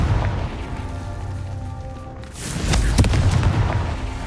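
Fiery Confringo spell blast in Hogwarts Legacy, a booming burst that swells up after a quieter stretch and rumbles on loudly with crackling bursts through the end.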